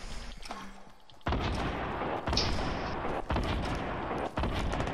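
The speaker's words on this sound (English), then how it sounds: "Keep shooting at him." Fortnite gunfire rattles out in long, loud bursts of rapid shots separated by short gaps, after a quieter opening with faint game sounds.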